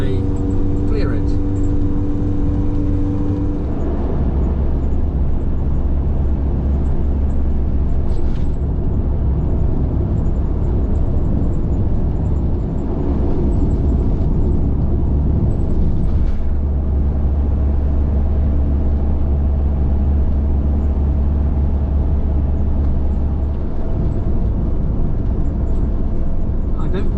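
Car engine pulling hard out of corners on a drive through rural France in March, a steady loud drone with swelling revs and a low rumble throughout, with no talk over it.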